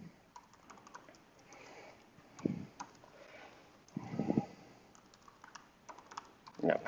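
Typing on a computer keyboard during a statistics lecture, a few scattered bursts of keystrokes, fairly quiet and partly under the lecturer's voice.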